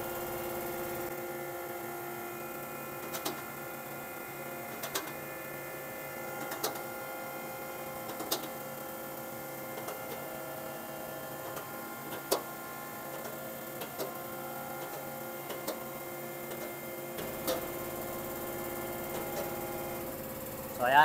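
A jack raises a 2013 Toyota Fortuner in a quiet workshop, giving faint periodic clicks and ratchet ticks spaced a couple of seconds apart over a steady low hum, with a louder knock at the end.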